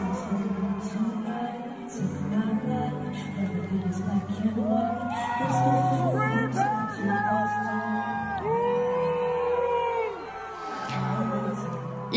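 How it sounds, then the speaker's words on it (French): A Eurovision audience boos, whistles and chants pro-Palestine slogans during an Israeli singer's performance. A steady, loud roar of crowd noise runs beneath the sung vocals throughout, with sharper whistles and yells rising above it. "des huées, des sifflements et des slogans pro-Palestine lancés par le public durant la prestation de la chanteuse israélienne"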